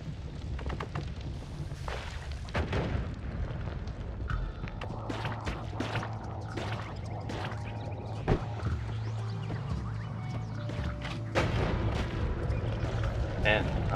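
Bombs going off in Noita, a series of dull booms and crackling blasts scattered through a constant wash of game noise, with a voice talking throughout.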